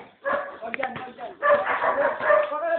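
Dog yelping and barking in short, strained bursts, close and fairly loud, with people talking over it.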